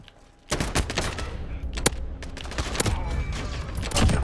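.357 Magnum revolver shots in Modern Warfare ring out as sharp, loud gunfire blasts in an irregular string over roughly four seconds, mixed with other game gunfire and impacts.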